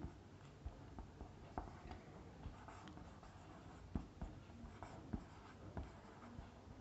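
Chalk or marker scratches and taps across a classroom board in an irregular rhythm, close and fairly quiet, with no talk.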